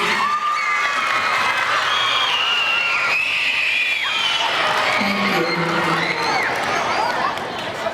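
A school gym audience of students and adults cheers for a veteran at a middle school Veterans Day program, with loud continuous crowd noise, high children's shouts and whoops, and a short spoken thanks near the end.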